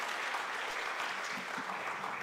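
An audience at a law masterclass applauds steadily throughout, a dense, even wash of clapping with no talk over it.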